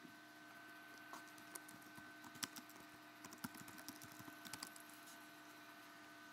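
Someone types text on a computer keyboard, a steady run of quiet, uneven key clicks against a faint hum, with no talking.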